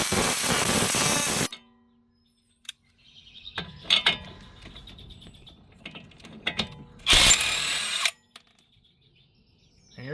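Lug nut driven onto a car wheel hub to pull a new wheel stud into place, heard as bursts of whirring power-tool and ratcheting mechanism noise close up, separated by quiet gaps.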